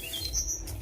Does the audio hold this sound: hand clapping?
no